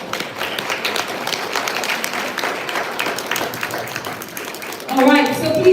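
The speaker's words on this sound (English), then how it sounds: "Can we all give ourselves a round of applause?" Applause from a gathered audience at a Saladmaster event, with dense clapping throughout and voices joining near the end as the clapping fades.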